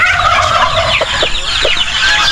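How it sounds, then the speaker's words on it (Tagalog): Young chickens crowded in a pen on a farm give a dense, continuous chorus of high cheeping and chirping, loud and close, with a few lower clucks breaking through. "ito naman yung mga sisiyaw natin uh, next batch na medyo malaki-laki na"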